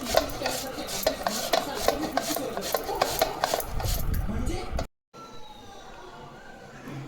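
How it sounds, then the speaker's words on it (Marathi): Mangoes are grated by hand in rapid rhythmic scraping strokes against a grater for a sweet-sour jaggery mango relish, close and fairly loud, with a brief cut and quieter rubbing afterward. "एक पद्धतीने मी आंबे किसून घेते सर्व."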